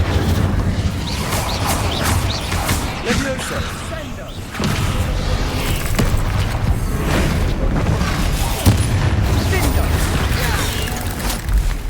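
Incendio fire spell cast in the video game Hogwarts Legacy during a battle, a loud booming burst among dense, continuous combat effects and thuds, with in-game voices speaking over the din.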